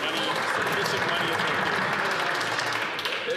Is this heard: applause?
yes